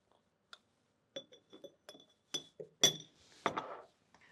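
A metal spoon tapping and clinking against an empty glass jar, a quick series of bright, ringing clinks in small clusters, close and fairly quiet in otherwise silent surroundings.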